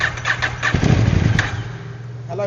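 A KTM 790 Adventure motorcycle engine with hard-starting trouble cranks and then catches, a loud close rumble that settles into idle, with one brief spoken word over it.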